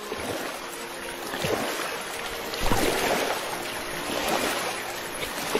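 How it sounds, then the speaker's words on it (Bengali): A boatman rows a wooden boat on a river with a continuous wash of moving water and soft splashes that swell and fade, with no voices. "মাঝি নৌকা চালাতে শুরু করলো।"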